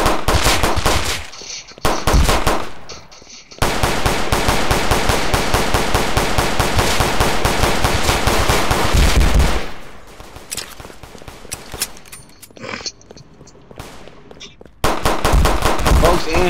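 Gunfire in the video game Tha Bronx 2: long bursts of rapid automatic fire crackle loudly, break off, then resume after quieter stretches with faint voices.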